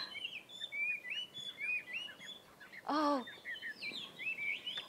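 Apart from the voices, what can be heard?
birds chirping and singing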